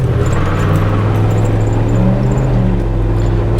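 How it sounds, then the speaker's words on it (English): Squarebody truck with a Turbo 400 transmission under full throttle, a deep, steady engine roar heard from inside the cab, loud and continuous for the whole moment. "And let's try full throttle."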